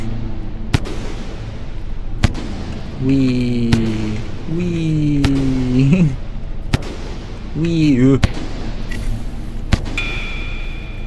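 Sharp explosions boom in the video game Rain World, about six separate bangs spread across the stretch, mixed with tonal game sounds while a person talks.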